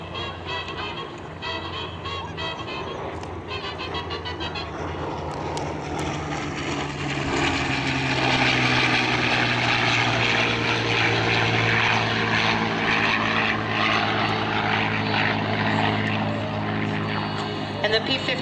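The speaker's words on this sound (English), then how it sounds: "And the P-51 that you see flying, it's the P-51 Mustang to honor the Tuskegee Airmen." A P-51C Mustang warbird flies past at an airshow, its propeller engine a loud, sustained drone that swells and shifts pitch as the plane passes, with crowd noise faintly underneath.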